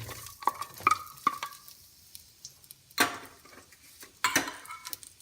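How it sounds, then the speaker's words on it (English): Onions sautéing in oil in a pan for beef tamarind soup, with a soft sizzle under sharp clinks and scrapes of a utensil stirring, two louder clattering bursts standing out. "saute this for a minute to become translucent"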